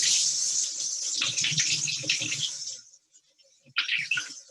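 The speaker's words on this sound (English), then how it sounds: "I'm going to get a little bit of warm water" Warm water runs from a kitchen tap in a steady hissing gush, stops briefly, then splashes again, close and clear with no talking.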